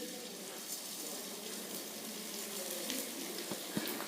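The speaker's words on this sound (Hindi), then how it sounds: "अब मैं थोड़ा सा गोंद इस कढ़ाई में डाल लूँगी" Gond, an edible gum, deep-frying in hot ghee in a kadhai, giving a soft, steady sizzle and bubbling with a few faint clinks near the end.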